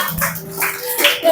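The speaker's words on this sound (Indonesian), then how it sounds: "Kasihlah tepuk tangan." Children clap together in a short burst of applause, close and lively, with a little voice noise mixed in.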